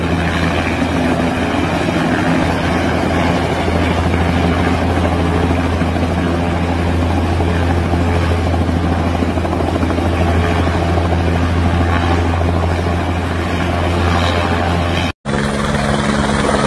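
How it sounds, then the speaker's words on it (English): A helicopter tries to land on a stand, its rotor and engine producing a loud, steady, close drone that holds throughout with only a brief dropout near the end. "The skilled helicopter pilot tries to land the helicopter on the stand."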